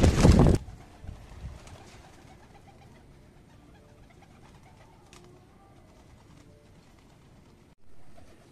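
Young racing pigeons coo softly in a loft, a faint low murmur under a loud handling rustle at the start and scattered bumps throughout.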